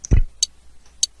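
Drum groove built from Lego brick clicks, with a pitched-down kick and a cropped, pitched-up hi-hat: one soft thud and three sharp high ticks in a sparse, even pattern, close and dry.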